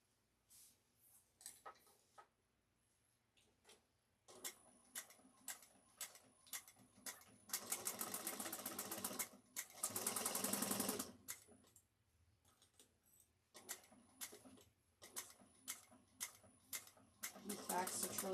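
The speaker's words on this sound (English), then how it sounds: "I'm going to backstitch really well at the beginning and the end" A sewing machine stitches a shoulder bag seam, backstitching at the start and end, giving quiet rhythmic ticking bursts broken by two longer continuous runs of fast whirring stitching.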